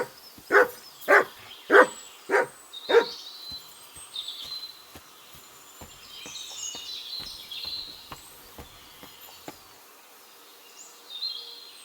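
A dog in Kingdom Come Deliverance 2 barks five times in a quick, fairly close series, followed by quieter scattered ambient clicks and faint bird chirps.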